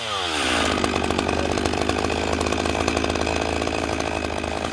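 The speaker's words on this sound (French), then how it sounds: "Quand tu arrives au milieu, tu sors ta tronçonneuse." A chainsaw revs up and runs steadily at full throttle while cutting into a tree trunk outdoors, loud and close, with a continuous buzzing drone throughout.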